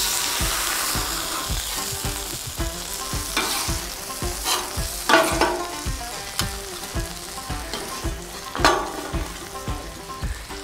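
Smashburger patties for a patty melt sizzle loudly and steadily on a hot grill, with crisp crackles and a few sharper scrapes or pops rising above the constant fry.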